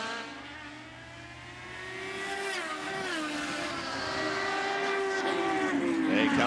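IndyCar race cars at the Mid-Ohio course scream past with a high, sustained engine whine that rises and bends as they brake and accelerate, heard at a distance under commentary.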